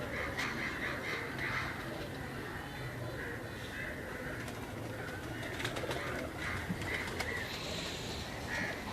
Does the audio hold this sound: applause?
no